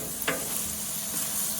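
Cheese stirred on a griddle turned down to low, a steady soft sizzle with one quick scrape of stirring near the start, close and alone.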